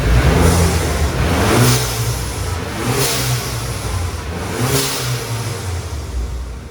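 BMW 328i F30 engine revving, with a turbo-like whooshing boost noise, rising and falling in a few repeated swells, loud and close without talk.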